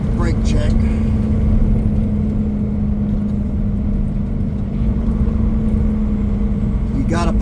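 A truck pulls off the Alcan highway to stop for a brake check, its engine holding a steady loud drone throughout, with a short air-brake hiss at the start and again at the end.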